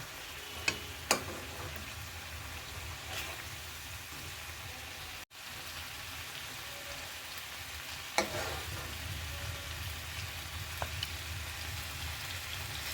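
Potatoes frying in spice masala in a pan for a tengra fish curry give a soft, steady sizzle with occasional stir clicks and scrapes, fairly quiet and close, with no one talking.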